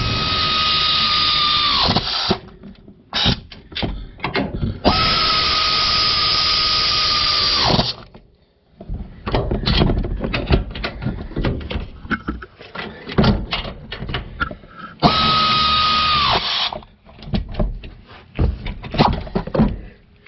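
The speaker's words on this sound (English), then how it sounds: "all I've got to do is just hit them with the ratchet" Ratchet spinning down the strut nuts on a 2007 Nissan Titan's front strut, loud close mechanical whirring bursts of a few seconds each, separated by clicking, clanking handling noises, with no talk.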